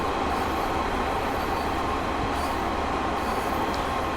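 A train rumbles steadily across the Truro Viaduct in a railway video game, a continuous loud rolling roar of wheels and engine with no break over several seconds.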